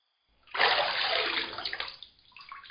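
Water splashes loudly and close as a body is lifted out of it in an audio drama scene, a broad rushing burst that settles into softer dripping and trickling toward the end.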